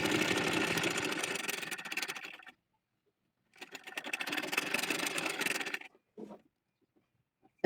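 A sewing machine stitches the sleeve of a baby frock in two bursts of rapid mechanical whirring, each a couple of seconds long with a pause between, then a brief short run at the end.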